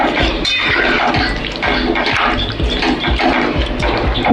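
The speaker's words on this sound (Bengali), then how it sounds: "এবার আমি জল দিয়ে দিলাম" Water poured into a pan of cabbage curry with potatoes during home Bengali cooking, a steady loud splashing and hissing pour that runs continuously throughout, with occasional clinks from the pan.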